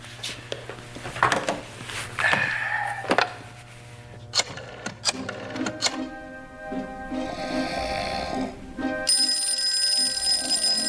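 Rattling mechanical clatter and clicks give way to a steady telephone ring tone in a 2000 Nero Wolfe detective drama as a phone call is placed, fairly close and uninterrupted by speech.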